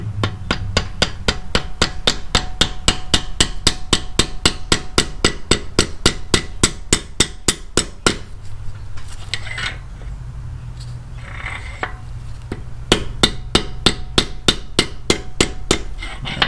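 A hammer taps a pin in while fitting an inner cam bearing on a 2006 Harley-Davidson Ultra Classic. Sharp metallic strikes come in a fast, steady rhythm, pause for several seconds, then resume close and clear.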